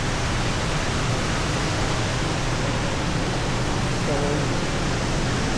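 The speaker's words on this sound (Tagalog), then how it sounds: "So may po sila dito, falls. Ayan po. Or kaya parang waterfalls po yan." Artificial waterfall in a city square at night pours as a dense, constant rushing hiss, close and steady throughout, with a brief word spoken over it.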